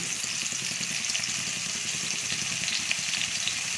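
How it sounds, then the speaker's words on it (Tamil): Onions and mint sautéing in a pan for Chettinad egg gravy, a steady, loud, close sizzle and frying hiss that continues unbroken, with no talking. "பெரிய வெங்காயத்தை வந்து நல்லா ஓரளவுக்கு சிவப்பு அளவுக்கு லைட்டாக வதக்கிடுவோம்"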